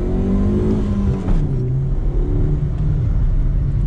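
A Chevrolet Corsa with a 1.8 engine pulls steadily, its engine note rising under acceleration with a continuous close-up drone and no talk.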